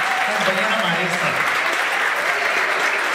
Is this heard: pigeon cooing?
no